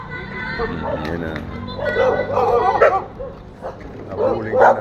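A dog barks a few times at moderate distance during a car wash, its yips mixed into overlapping talk and children shouting nearby.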